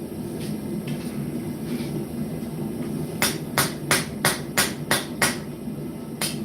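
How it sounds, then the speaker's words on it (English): A handmade blacksmith's hammer strikes metal during forge work, with seven sharp, ringing blows in a steady rhythm after a few seconds of low workshop hum. "Glad to hear my hammer is getting used, Zach."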